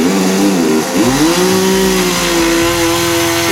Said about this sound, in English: please be very careful when you're working with a chainsaw.